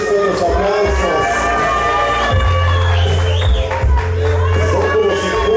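A crowd at a quinceañera celebration in Tecoyame de Guadalupe, Guerrero, cheers and whoops loudly for several seconds, with children shouting and voices rising over a dense, close wash of noise.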